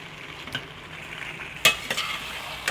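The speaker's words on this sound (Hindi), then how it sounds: "इनको प्याज को अच्छी तरह भून लेंगे ताकि इसका कच्चापन ख़त्म हो जाए।" Onions and a ground spice masala with red chilli, turmeric and coriander are stirred and fried in a pan. The result is a soft continuous sizzle broken by a few sharp scrapes and clinks of a utensil against the pan.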